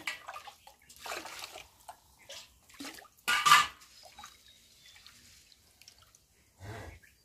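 Water is poured over rice in a pot in a village kitchen, heard as short, quiet splashing bursts and drips separated by near-silent gaps, with one louder pour in the middle.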